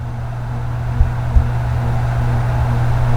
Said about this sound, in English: just in case you are curious on the noise that this fan makes